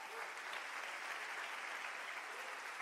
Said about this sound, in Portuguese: Pode dar um aplauso a Jesus.